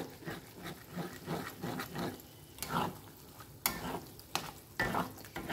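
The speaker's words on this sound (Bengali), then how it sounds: "আমি এই ডিমটাকেও এই ছোলাটার সঙ্গে মিশিয়ে দেবো।" Egg is stirred into chickpea bhuna in a hot pan, with rhythmic scraping strokes over a gentle sizzle and a few sharper knocks of the spoon against the pan.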